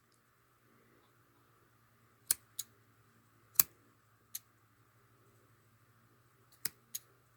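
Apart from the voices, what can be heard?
scissors cutting yarn tassels off a rug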